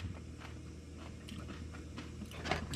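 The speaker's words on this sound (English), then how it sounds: "Get you some nice crunchy bacon," Someone bites and chews crunchy cold bacon up close, with soft irregular crunches and munching over a low background hum.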